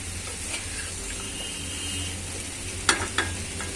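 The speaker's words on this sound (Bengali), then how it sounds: "আর একটু কষিয়ে নেব।" Shukto vegetables being sautéed and stirred in a pan, a low steady sizzle with scraping stir strokes and a couple of sharper utensil knocks near the end.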